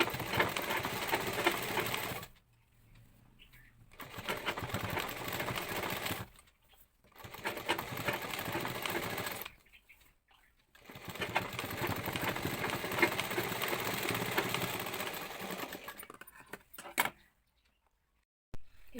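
A sewing machine runs in several bursts stitching a fabric strip, its fast mechanical whir close and fairly loud, stopping briefly between runs with short quiet gaps.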